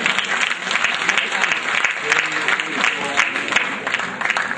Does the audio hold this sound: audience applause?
yes